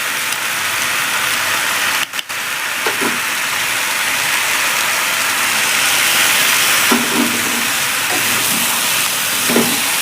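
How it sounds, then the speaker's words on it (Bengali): Steady sizzling hiss from a pan of mixed vegetable curry with pointed gourd and potato as a spice paste dissolved in water is stirred in, with a few soft spoon clanks and scrapes over the constant frying noise. "যে মশলাটা আবার গুলে রেখেছিলাম এই মশলাটা আবার দিয়ে দেবো।"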